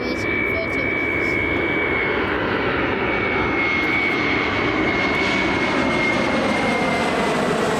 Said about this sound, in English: Jet2 Summer Holidays, Boeing 737-300, 26 year surveyed from Alicante, flight time of 2 hours and 30 minutes.